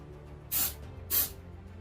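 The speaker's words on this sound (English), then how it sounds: "we're going to spray with a little bit of UMR" Two short bursts of UMR paintable mold release sprayed from an aerosol can, each about a quarter second long with a brief pause between, close and fairly loud against a quiet room.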